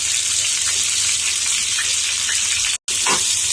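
Cut cucumber pieces sizzle in hot oil in a pan, a steady loud hiss from start to finish, broken once by a brief cutout near the end.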